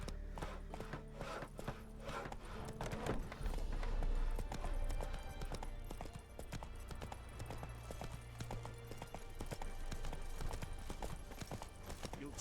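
Roach the horse gallops in The Witcher 3 with a rapid, steady clip-clop of hooves under game music, loud and continuous.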